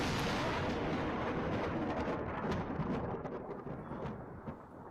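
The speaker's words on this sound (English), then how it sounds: "A home security camera picked up scary images of a lightning strike in Nevada" A lightning strike right next to a home in Spanish Springs outside Reno, Nevada, heard as a loud, close thunder crack that rolls into a long, heavy rumble, with rain in the background.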